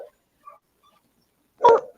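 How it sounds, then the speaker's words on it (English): A tiny small dog lets out a single sharp, squeaky bark near the end, preceded by a few faint little whimpers and yips in an otherwise quiet room. "It's just a squeaky little bark."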